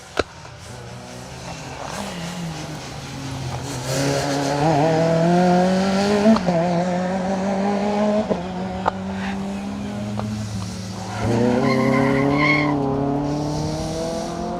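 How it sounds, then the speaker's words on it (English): Rally cars on a circuit stage squeal their tires through the corners in rising and falling whines over revving engines, with a commentator talking over the action. "Squeaking wheels all around the circuit here."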